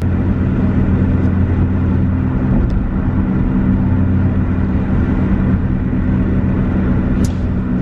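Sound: car driving

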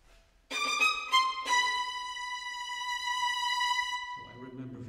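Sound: string orchestra imitating a cock crow, Shostakovich third movement

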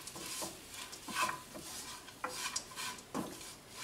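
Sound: stirring puffed rice upma with lemon juice in a pan

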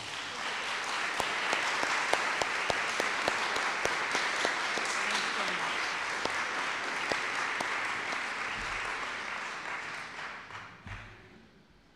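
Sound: audience applause

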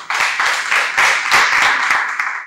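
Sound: audience applause for a poet

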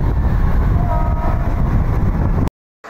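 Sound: Mumbai local train arriving at station

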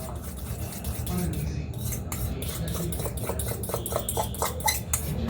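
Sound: stirring an egg mixture in a bowl

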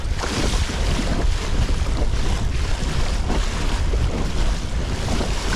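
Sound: wind and big waves on a lake during a storm, kayak

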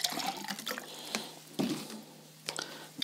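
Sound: water poured onto garden soil sample

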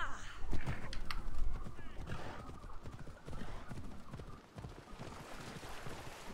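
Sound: horse arriving in the video game Assassin's Creed Odyssey

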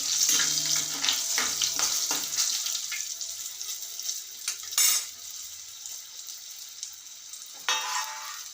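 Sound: dried red chilies, green chilies, cinnamon, curry leaves frying in pan

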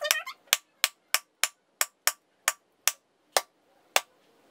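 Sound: hammer cracking open a coconut

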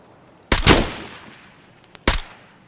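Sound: gunshot in the video game Escape From Tarkov

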